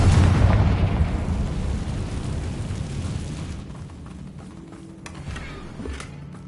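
Bombarda and Confringo spell blasts go off in Hogwarts Legacy, a loud booming explosion that rumbles and slowly decays into lingering crackle and debris, with no voices.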